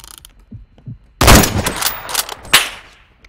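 Gunfire from a sniper rifle in the Roblox video game: a sudden loud broadband blast after a quiet stretch, followed by a rattling decay and a second sharp crack about a second later.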